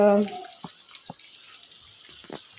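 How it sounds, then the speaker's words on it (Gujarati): Heavy rain falls outside as a steady, soft hiss with scattered drips of water, and a short voice is heard at the very start. "જો બહાર કેટલો બધો વરસાદ છે."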